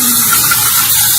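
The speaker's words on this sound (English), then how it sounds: "Now your dishwasher is going to get water and you'll be able to use it." Water rushes loudly and steadily into a hOmeLabs compact countertop dishwasher from a faucet hookup, a dense close gushing spray with no voices.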